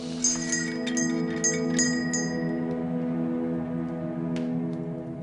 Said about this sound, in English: He stretches out his hand and pulls the bell.